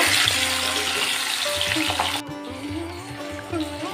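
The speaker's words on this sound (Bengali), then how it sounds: "এবারে আমি বাকি মাছগুলোও একই রকমভাবে ভেজে তুলব" Pabda fish fry in hot oil in a pan, a dense crackling sizzle steady throughout with soft clinks and a brief shift midway, close and fairly loud, no talking.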